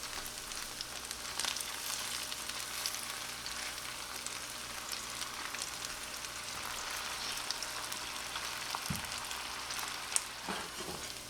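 Meatballs of ground beef fry in oil in a frying pan, a faint, steady crackling sizzle with a couple of soft knocks as they are turned, close up with no voices.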